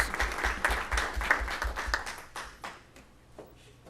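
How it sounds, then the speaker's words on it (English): A short round of applause at a city council meeting, fairly close and steady at first, then thinning out into scattered claps and fading. "Could we give them a little round of applause, please?"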